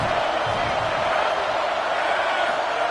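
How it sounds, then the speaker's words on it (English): An Ohio State Buckeyes football stadium crowd roars on a third-down play, a dense, steady wall of cheering and shouting that holds at full volume throughout. "the Buckeye crowd alive on third down"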